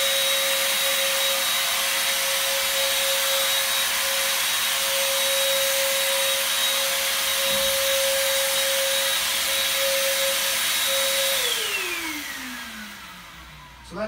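Super Sprayer running over a hotel room carpet, a steady loud mechanical whine with a high tone that holds for about eleven seconds, then winds down and fades toward the end.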